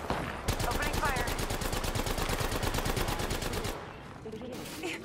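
Rapid automatic gunfire in the video game Apex Legends, a loud, steady burst of evenly spaced shots lasting several seconds before cutting off, with quieter game sounds trailing after.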